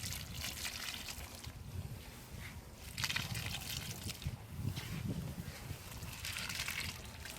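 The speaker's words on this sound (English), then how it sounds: "I'm going to add this water in every plant" Soaking water is poured a little at a time onto potted pineapple plants. The sound is a soft, uneven trickle and splash that comes in short bursts with brief pauses between them.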